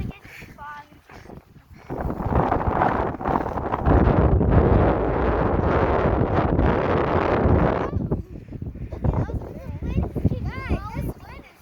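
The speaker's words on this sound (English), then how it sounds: "This wind is super strong." Strong gusts of wind roar across an outdoor microphone on a windy day, surging loud for several seconds then easing, with a voice talking and exclaiming over and between the gusts.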